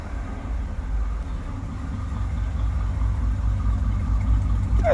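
The 1959 Edsel barn find idles smoothly through its dual exhaust, a steady low rumble held close and unbroken for several seconds.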